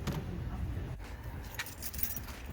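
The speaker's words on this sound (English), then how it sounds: "so you want to grab your keys" Car keys for a VW Polo jangle briefly as they are picked up, a soft metallic rattle close by in a quiet setting.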